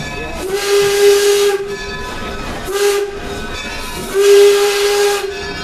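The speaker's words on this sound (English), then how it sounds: "That's its original hooting whistle." Baldwin No. 26 steam locomotive, built 1906, sounds its original hooting steam whistle in three long blasts over a hissing, rumbling background, loud and close.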